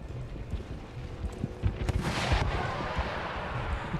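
Cannon fire booms across an Empire: Total War battlefield, a couple of low thuds followed by a rolling, rumbling blast that swells and lingers at a moderate distance, with no voices over it.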